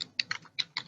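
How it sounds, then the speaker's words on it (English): Typing on a computer keyboard during a discussion session, a close run of quick, irregular key clicks and taps, about six distinct strokes in a second. "Please don't make typing, please."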